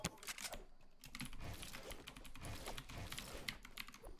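Typing on a computer keyboard during a Fortnite session, a quick uneven run of close clicks and key taps continuing throughout.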